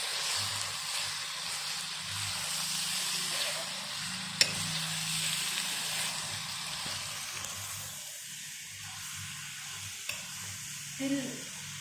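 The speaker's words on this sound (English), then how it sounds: "Keep frying. You can increase the flame." Chicken sizzles steadily in a hot pan while a utensil stirs and scrapes now and then, a continuous close-up hiss with occasional clinks.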